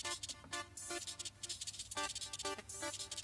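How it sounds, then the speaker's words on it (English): Soloed reverb send from a dance-music build carries the wash of shimmery hi-hats, stab chords and snare. Faint, rhythmic bursts of hazy, bright ambience rise and decay in a steady pattern. "So this reverb track, if soloed, now sounds like this."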